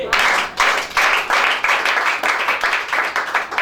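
A church congregation applauds loudly and steadily in dense bursts of clapping that swell and dip in waves, close and full, with no talking over it.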